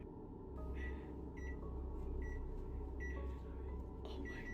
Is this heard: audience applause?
no